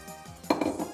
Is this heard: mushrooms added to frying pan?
yes